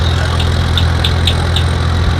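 A small engine on a DIY mini tractor runs at a steady idle. The hum is close and continuous, with a faint rhythmic whine pulsing above it.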